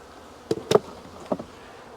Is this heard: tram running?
no